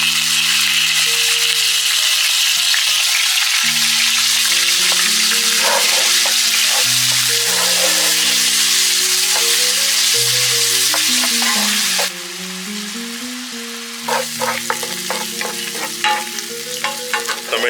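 Crushed onions frying on medium heat in a pan with whole spices for beef liver masala, a constant loud sizzle broken by spoon scrapes and stirring clatter, under background music.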